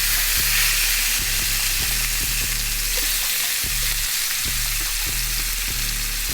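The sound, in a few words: oxtail meat sizzling in a hot pan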